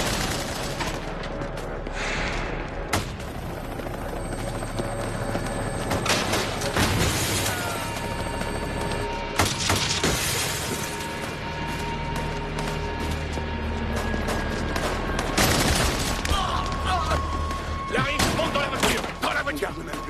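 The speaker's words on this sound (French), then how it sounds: "Les policiers n'arrêtent pas de tirer." Police fire continuously, with repeated sharp shots and bursts crackling throughout at close range, layered over voices and mechanical noise.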